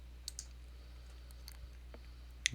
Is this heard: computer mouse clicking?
yes